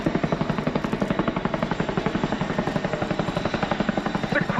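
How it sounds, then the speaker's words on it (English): Royal Air Force Boeing Chinook CH-47 HC2 twin-rotor helicopter in a flying display at the RIAT 2017 airshow. The rotors give a loud, steady, rapid blade thump that stays constant throughout. "The Chinook is a resilient battlefield helicopter with vast protection and redundancy measures"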